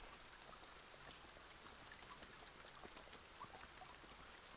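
Rain in Kingdom: Two Crowns, a faint, even hiss of falling rain with scattered soft droplet ticks, steady throughout with no voices.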